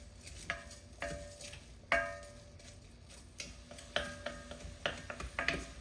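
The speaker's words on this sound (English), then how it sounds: "I'm going to add the rice and just let the rice cook in here for a moment." Rice and minced garlic toasting and being stirred in a soup pot for creamy chicken and wild rice vegetable soup, with soft sizzling under repeated light scraping and tapping clicks of a utensil against the pot, close and steady.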